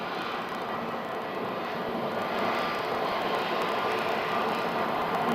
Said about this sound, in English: We have a United 737 taxiing by.